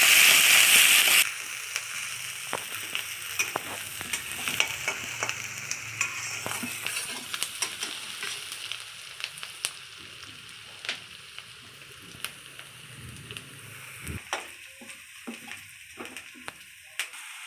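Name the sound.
onion frying in oil in a wok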